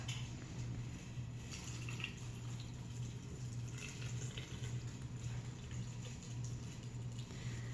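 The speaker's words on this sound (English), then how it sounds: "pour this water that I just took off the boil up to 1 inch headspace on each jar" Just-boiled water poured from a pot into canning jars of sweet potatoes, a steady close gurgle and trickle of liquid running on without pause over a low background hum.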